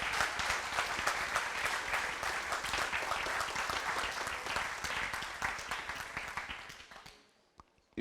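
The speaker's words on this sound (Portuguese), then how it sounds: "Então aplauda Jesus, aplauda o Senhor." Church congregation applauding together, a dense, steady wash of many hands clapping for about seven seconds before cutting off abruptly into near silence.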